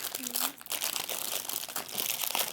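Ülker snack wrapper crinkling as it is torn open, a continuous crackly rustle close to the microphone, with children talking over it.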